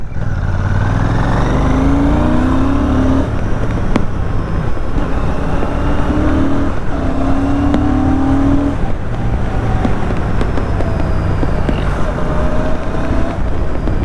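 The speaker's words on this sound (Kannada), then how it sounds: "ಈ ಇಂಜಿನ್ನು ರಿಫೈನ್ಡ್ ಆಗಿದೆ." A Royal Enfield motorcycle engine drones steadily while the bike is ridden, with pitch rising and falling through gear changes under a constant rush of wind noise across the microphone for the whole stretch.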